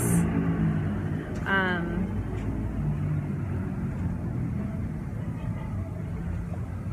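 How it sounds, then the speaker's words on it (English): Street traffic outside a Starbucks café makes a steady, low rumbling wash of passing vehicles throughout, with a brief voice heard early on. "if you hear some traffic kind of going on, that's what that is"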